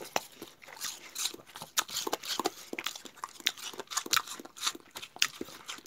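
A dog crunching on pieces of pear, a close series of sharp, wet, irregular bites and chewing crunches in quick succession, fairly quiet overall.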